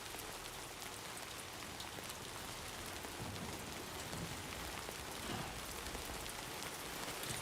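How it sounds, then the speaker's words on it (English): Steady rain falls in the video game Death Stranding 2, a dense continuous patter of drops on surfaces with no pauses and no voices over it. "I don't think this rain's gonna stop."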